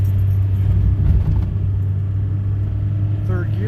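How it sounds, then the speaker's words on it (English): A car engine pulls in third gear up to about 40, giving a low, steady rumble with a slight rising whine at the end while someone talks over it. "Third gear gets up to 40 pretty good actually."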